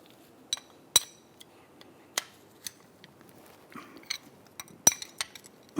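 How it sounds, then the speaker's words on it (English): A wrench snugs a rear brake caliper bolt on a 2004-2015 Nissan Titan, heard as sparse, sharp metallic clicks and clinks spread irregularly over several seconds, close by and without talk. "I'm going to take my wrench and try to snug this up"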